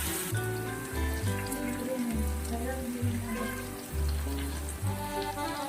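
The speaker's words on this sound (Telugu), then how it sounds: "మనం కట్ చేసి పెట్టుకున్న నాటుకోడి ముక్కలు వేసి నూనెలో దింపలు చేసుకోవాలి" Pieces of cut country chicken fry in hot oil for a village-style curry, giving a steady, close broadband sizzle that continues throughout under a layer of rhythmic background music.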